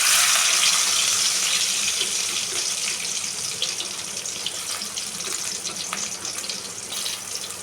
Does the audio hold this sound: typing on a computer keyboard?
no